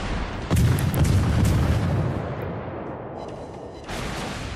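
Warship guns firing in World of Warships as a light cruiser engages a battleship: heavy booming salvos with a rumbling roll, a dense burst early on and another near the end.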